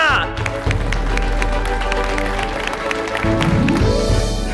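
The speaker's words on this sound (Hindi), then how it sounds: "प्यारेलाल जी के लिए एक बार जोरदार तालियां" An audience at a Ramleela stage program in Agra breaks into loud, continuous applause, a dense clapping wash under music and a lingering voice throughout.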